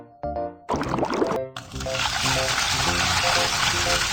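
Water rushes out after a valve is opened in a children's cartoon, following a few brief tones and clicks. The flow then settles into a steady, loud gushing stream.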